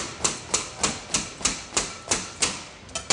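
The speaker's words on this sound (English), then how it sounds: "When I cut them, I can't be too slow. I have to be fast" A knife cuts quickly through a log of biscotti in a pastry kitchen, ten crisp, evenly spaced chopping crunches in a steady fast rhythm, close and loud.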